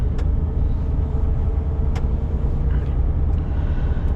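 A delivery truck driving on a road in freezing weather, a loud steady low engine rumble from inside the cab with occasional faint clicks and rattles, no voices.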